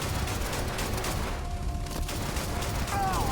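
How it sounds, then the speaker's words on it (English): Rapid, continuous sci-fi gunfire from a Gatling laser in the video game Starfield, a dense rattling barrage that holds loud and steady throughout with no pause. "It's like a Gatling laser or something bad."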